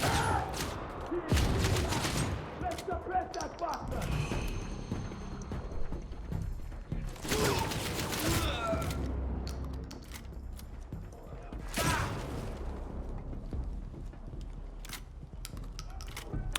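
Shotgun in the shooter CrossfireX, loaded shell by shell, a run of sharp mechanical clicks and clacks with bursts of louder metallic impacts, several spaced hits over game background noise.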